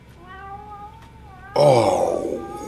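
A cat meows, first with a thin, drawn-out tonal cry, then with a louder, harsher yowl that trails off, heard close and alone.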